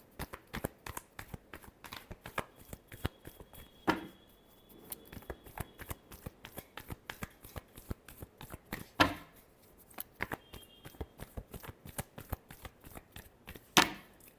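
Tarot cards being shuffled by hand in repeated quick riffles and taps, a dense run of crisp papery flicks with a few louder snaps, close and alone with no talking.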